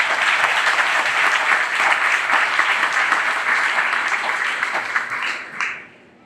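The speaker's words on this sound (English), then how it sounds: "let's give Mr. Brian Liga a round of applause for organizing" A crowd at a county fair opening ceremony applauds with sustained, dense clapping that holds steady, then tapers off and fades out at the end.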